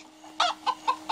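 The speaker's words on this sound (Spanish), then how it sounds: "un puto pollo" Chicken clucking in the video game Minecraft: Story Mode, four short, clear clucks in quick succession, close and alone over a faint steady hum.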